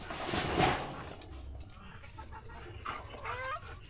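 Chickens cluck and squawk nearby, a few short calls scattered over a quiet outdoor background.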